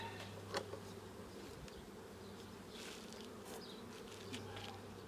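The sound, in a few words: honey bees buzzing in hive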